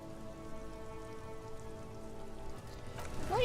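Steady rain in the video game Disco Elysium, a soft continuous patter under a low tonal music bed, with a faint sharper sound near the end.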